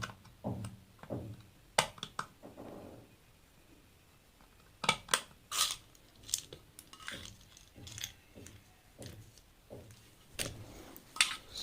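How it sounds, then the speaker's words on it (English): Screws being backed out of a plastic electrical extension box with a screwdriver, giving scattered small clicks, ticks and scraping crunches close up, in irregular bursts with quiet gaps between. "Let us remove the screws and check."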